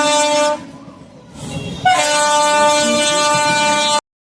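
A local train rumbles loudly across a river bridge on the Howrah to Digha line and sounds a long, sustained horn blast that starts softly and then swells before cutting off abruptly.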